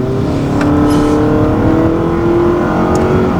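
A Dodge Challenger TA 392 accelerating hard from a rolling start, its V8 engine roaring loudly with a steadily rising pitch as it pulls through the gear, heard from inside the car with no talking.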